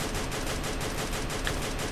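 Rapid bursts of gunfire in the Free Fire battle royale game, a dense continuous rattle of shots under a steady noisy wash, loud and close for a couple of seconds.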